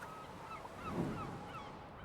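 A bird in the video game I Am Dead lets out a soft, low honk, a single muffled goose-like call that swells briefly in the middle, faint and alone over a quiet background.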